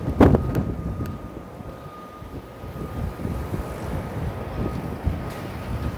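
Gusty wind buffets an unshielded microphone outdoors in Toronto, low rumbling bursts, strongest at the start and continuing unevenly throughout.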